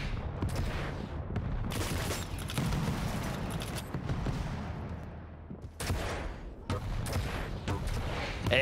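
Quake match in a 1v1 world championship qualifier, with rapid repeated weapon fire and rocket blasts in dense overlapping bursts, loud and continuous with brief gaps, and no audible talk.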